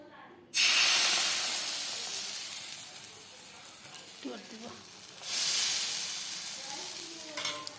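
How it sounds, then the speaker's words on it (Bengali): A sudden loud sizzle bursts in as batter hits hot oil, fades to a steady hiss, then flares again with a second pour, close by. "কড়াইতে তেল দিয়ে দিয়েছি, এখন এটা দিব আমি"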